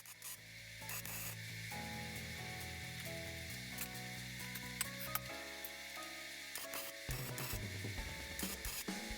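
Steel log grapple parts are tack welded on a garage floor, giving crackling, sizzling arc bursts that start and stop in short runs, with clicks and rattles in between.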